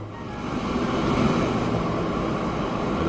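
An electric train runs in the Transport Fever 2 simulation game, giving a steady, close rumbling roll that swells slightly and holds evenly throughout, with no talking.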